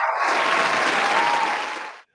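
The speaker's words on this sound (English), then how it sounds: "that is the shortest applause I've ever heard" A short burst of recorded applause plays as a podcast sound effect, dense clapping from a crowd lasting about two seconds before cutting off abruptly into silence.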